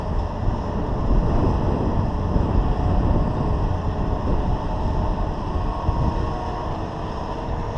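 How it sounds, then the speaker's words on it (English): Steady, loud wind buffets the microphone at a boatyard during a boat haulout, a constant low roar with gusts in a breezy southwest wind and no talking. "Mostly a southwest wind, I guess."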